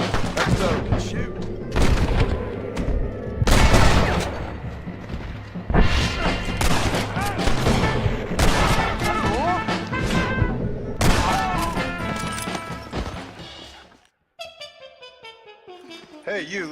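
Gunfire in Red Dead Redemption comes as loud, heavy shots and booms in irregular bursts amid a busy, dense mix, with a voice speaking partway through, before it drops to quieter sounds at the end.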